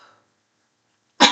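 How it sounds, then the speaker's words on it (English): A single sharp, loud sneeze bursts out at the very end, after a faint trace of voice at the start and a long stretch of silence. "because I sneezed"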